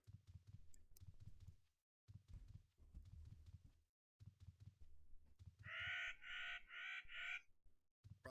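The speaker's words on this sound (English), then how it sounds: "the birds also make noise when you walk by." Bird calls from Ultima Online Outlands, four quick harsh squawks in a row near the end, following muffled low thumping footsteps and movement.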